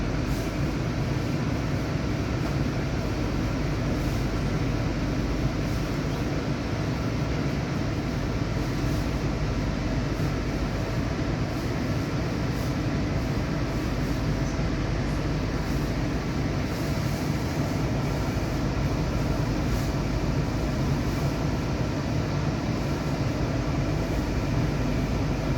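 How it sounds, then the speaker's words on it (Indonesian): Argo Dwipangga train departing from track 3 at a station, a constant loud rumbling drone of wheels and engine with no break, steady throughout. "Kereta Argo Dwi Pangga yang ada di jalur 3 diberangkatkan dengan tujuan akhir stasiun Solo"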